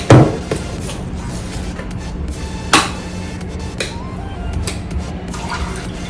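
Water drains and splashes off curdled milk being strained while paneer is made at home, with a loud splash at the start and another midway, then a steady trickling wash.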